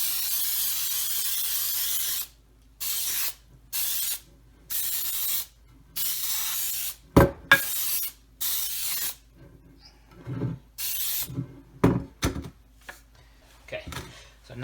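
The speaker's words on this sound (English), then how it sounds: "you're going to coat it with cooking spray." Repeated bursts of aerosol cooking spray hiss on and off in short blasts into a glass baking dish, interspersed with quiet gaps and a few clunks of the dish being handled.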